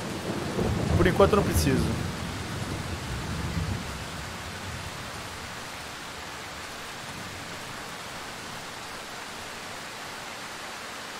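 Rain and a rumbling thunderclap in the video game Darkwood: a loud roll of thunder over the first few seconds, then steady rain hiss that continues alone, with a brief spoken line early on.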